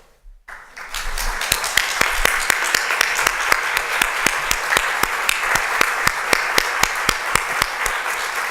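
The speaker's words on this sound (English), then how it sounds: "I ask that you please stand so we may applaud this accomplishment." An audience applauds Ohio University's 2015 faculty newsmakers at a gala, with dense, steady clapping that starts abruptly after a moment of quiet and continues evenly with distinct sharp claps.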